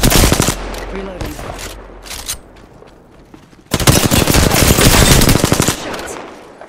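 Loud bursts of rapid automatic gunfire in Apex Legends come in two long volleys separated by a quieter gap with a few scattered shots. The firing is close and dense, and no voices are heard.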